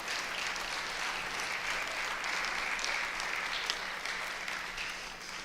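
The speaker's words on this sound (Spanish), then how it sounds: "Denle un aplauso al Señor." Steady, even applause from a church congregation during a sermon, continuous for the whole stretch at moderate volume with no talking over it.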